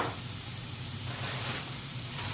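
Greens sizzling in an egg pan at breakfast, a steady close hiss of frying that stays even throughout with no talking.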